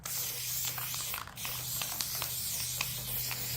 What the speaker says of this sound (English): So, yes, I'm spraying tack glue